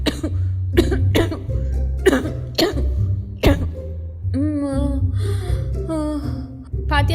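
A person with a fever coughs repeatedly, six sharp, loud coughs in an uneven rhythm close to the microphone, followed by a stretch of talking and one more cough near the end.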